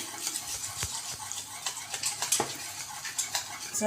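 Spoon whisking yogurt (curd) in a bowl, a rapid run of light scraping and clinking taps against the bowl, close up and continuous, with no talking.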